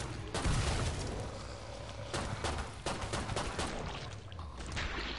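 Shotgun blasts in a first-person video game, several sharp bangs scattered across a noisy firefight with a steady rumble underneath.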